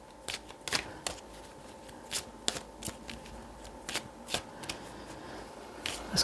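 Tarot cards shuffled by hand in a series of crisp riffling bursts and soft slaps, irregularly spaced and fairly close, with no talking.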